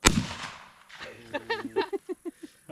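A single sharp shotgun blast during target shooting on farmland cracks out loudly at the start, followed by people talking nearby.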